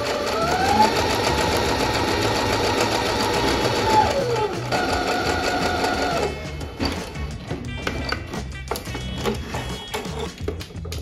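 Domestic sewing machine fitted with a pintuck foot stitching a pintuck, running steadily and loudly at close range for about six seconds before stopping, followed by quieter mechanical clicks and handling sounds.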